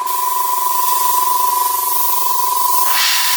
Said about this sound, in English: Let's turn on the airbrush, and away we go.